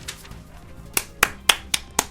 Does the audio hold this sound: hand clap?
yes